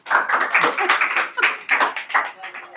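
Several bursts of hand clapping in an indoor classroom during a 10th-grade maths lesson, with voices talking and laughing over the claps, fairly close and loud.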